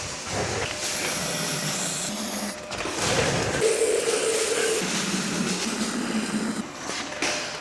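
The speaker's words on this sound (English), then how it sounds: "I want to spray some stuff down these cylinders" Lubricant sprayed from a can down the engine cylinders of a 1965 Mustang, a loud, close, continuous hissing spray with short pauses and shifting tone, no talking.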